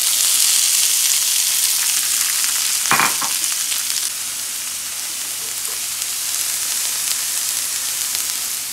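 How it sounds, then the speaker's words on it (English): Beaten eggs frying in avocado oil in a cast iron skillet, a loud continuous hiss and crackle with a brief scrape partway through, close up. "This is avocado oil in a cast iron skillet. We've got our eggs broken apart and beaten."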